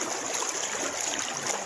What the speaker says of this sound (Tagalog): Lakas ang agos mga Lodi ito.